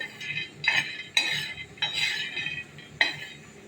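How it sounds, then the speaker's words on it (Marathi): A utensil scrapes and rattles across an oiled tava in repeated stirring strokes, with dry peanuts clattering along, fairly close and uneven in rhythm. "शेंगदाणे थोडेसे फिरून घेणार आहे"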